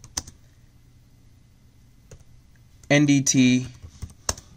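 Computer keyboard typing with scattered close clicks and a short burst of keystrokes, partly under a brief spoken phrase.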